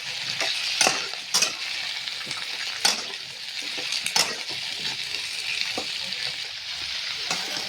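Mixed vegetables with bay leaf and whole cumin sautéing in oil for khichuri, a steady bright sizzle close by, broken by several scraping stirs and brief clatters of the spoon against the pot.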